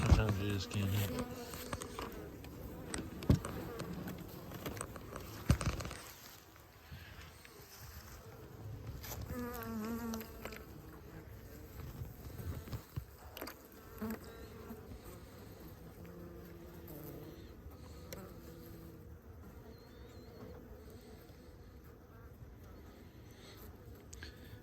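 Honeybees crowd a hive, feeding on syrup in fall, their faint, steady buzzing hum running throughout beneath scattered handling noises and knocks near the start.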